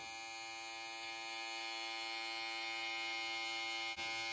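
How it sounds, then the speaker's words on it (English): An Andis electric hair trimmer runs steadily while trimming a boy's neckline at home, a close, constant high-pitched buzz with a brief dip near the end and no talking. "Then I turn my trimmer around and I go the other way."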